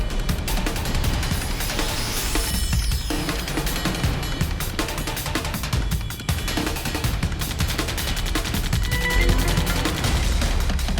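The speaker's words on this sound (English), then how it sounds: "SEAL X charges out and shoots at the criminals, and they fire back" Nerf guns fire in rapid bursts during a mock police SWAT shootout with criminals, dense clattering volleys of shots and impacts rattling on continuously at close range with no talking.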